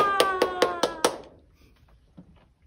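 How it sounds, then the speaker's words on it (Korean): Five crisp, evenly spaced hand claps from young children, close and loud, followed by quiet room sound and a faint voice. "박수 시작!"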